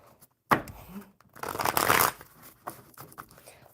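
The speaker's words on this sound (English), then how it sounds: "One more good shuffle." A deck of cards being shuffled at close range on a table, with a quick riffle followed by a longer flurry of crisp card flutters, alone and fairly soft.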